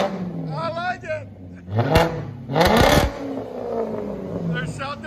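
Loud revs come from a 2005 BMW 545i 4.4L V8 with a straight-pipe exhaust, two sharp bursts that drop back to a rumbling idle, with voices talking around them.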